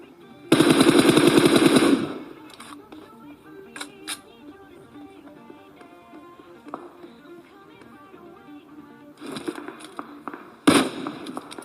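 Video game gunfire: a loud, rapid automatic burst lasts about a second and a half, followed by quieter scattered shots and clicks. Another sharp volley comes near the end.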